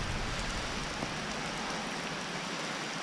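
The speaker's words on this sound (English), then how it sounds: "It's just a heavy rain." Heavy rain pours steadily on and around a tree sheltering someone fishing from the bank, making a dense, even hiss of drops close by with no pause throughout.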